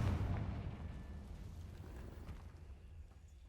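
A Confringo blasting spell in Hogwarts Legacy goes off as a loud, booming explosion with a heavy low rumble at the start that slowly decays into a rumbling tail, with no voices.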